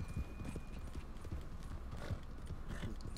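Rapid, steady hoofbeats of galloping horses in a video game, a dense clip-clop running throughout, with a faint whinny and other game noise mixed in.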